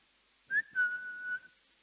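A single person whistles in imitation of a father announcing his arrival: a short rising note, a brief break, then one long steady tone, close and clear in a quiet room.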